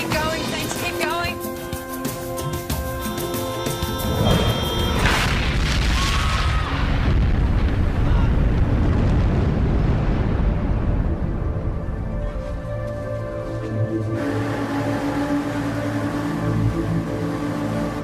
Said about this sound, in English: it was obviously detonated by someone within sight of the location